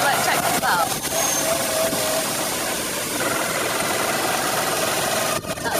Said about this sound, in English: we're on a little moped out in Shanghai